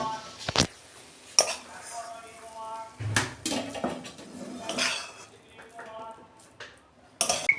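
Spoon scraping and clinking against a metal pan as mashed pointed gourd bharta with coconut is poured out, giving scattered metallic taps and soft squishy scrapes; a voice talks quietly over it.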